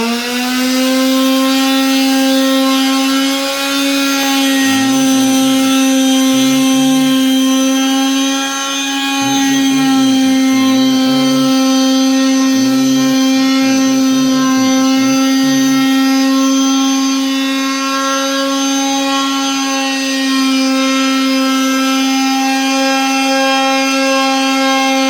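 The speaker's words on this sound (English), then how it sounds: "This board is in the middle, so we got to sand two sides." A power sander works a middle board for an end table, running steady and loud for the whole stretch with a strong droning hum and a shifting rough grind underneath, and no voices.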